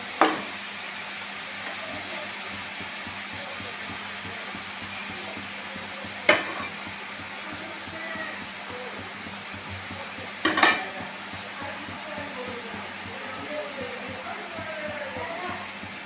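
Hot oil sizzles in a pan while cooking chana laddu, giving a low, steady hiss throughout. Three sharp utensil clacks from stirring stand out against it.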